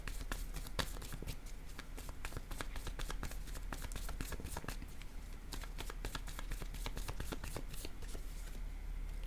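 A deck of cards is shuffled for a card reading, a dense, rapid riffle of crisp flicks and snaps that runs steadily and close for several seconds, with no talking.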